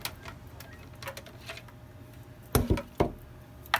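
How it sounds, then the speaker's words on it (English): Bolts being worked and pulled from Japanese Type 30 and Gewehr 88 rifles, light metallic clicks and ticks followed by a few louder clacks of steel parts, close and with no talking. "we're going to go ahead and pull the bolts out of both of these and we'll compare them"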